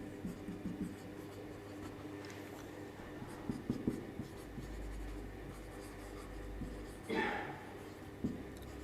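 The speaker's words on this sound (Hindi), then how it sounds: "मैं लिख देता हूं" Hand writing during a classroom lecture on measurement errors, a soft scratchy stroke sound under steady room noise, with a voice faintly present at times.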